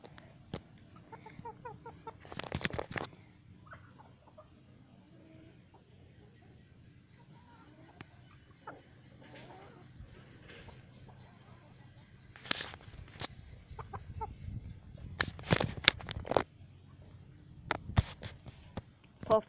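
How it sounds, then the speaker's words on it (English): A chicken on a farm gives soft, scattered clucks at a distance, faint against a quiet background, with occasional louder rustling bumps and a person talking quietly nearby. "Well, that's a good chicken."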